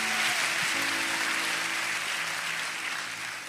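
Congregation applauding during a church service: a dense, continuous wash of clapping that slowly tapers, with a faint sustained musical tone beneath it and no speech.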